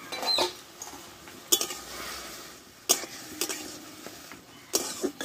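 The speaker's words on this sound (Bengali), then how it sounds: "এবার ঢাকনা তুলে তোমাদের দেখাচ্ছি।" A lid comes off a pot of boiled flat beans (sim) in a home kitchen, giving a few sharp metallic clinks and clatters spread over several seconds, separated by quieter handling noise, with no talking.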